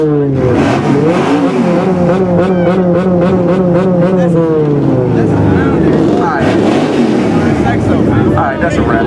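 Loud car exhaust revving at a custom car and truck show, a roaring engine rising and falling in repeated pulls, close and continuous, with people talking over it.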